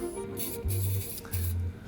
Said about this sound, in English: I'm trying to get a very, very light first coat. So I'm really just dusting it, making sure I'm getting full coverage on every part of the rim.